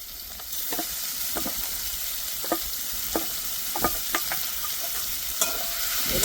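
Boiled fish being fried and stirred in oil with cooked-down spices, a constant sizzle with several distinct scrapes of a spoon against the pan.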